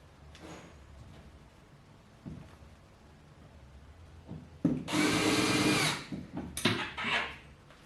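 A power drill drives screws into the side of a European-style base cabinet, a loud whirring burst after a few seconds of quiet handling noises, then shorter drill spurts and knocks; no voices.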